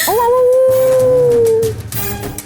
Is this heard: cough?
no